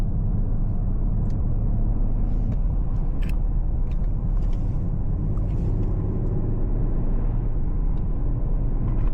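A BMW 740i with the B58 inline-six drives steadily, a continuous low engine and road rumble heard from inside the cabin, with a few faint clicks and taps above it.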